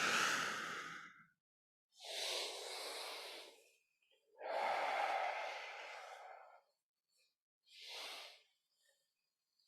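Long breathy exhales during a crocodile breath hip mobility exercise in a movement therapy class, four airy breaths separated by silent pauses, the last one short, close and alone.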